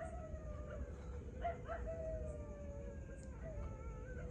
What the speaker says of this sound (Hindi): कुत्ते देख रहे हो कैसे रोना शुरू कर दिए।